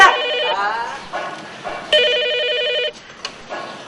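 A telephone rings in repeated electronic bursts, close and fairly loud, with talk and room noise in the pauses between rings.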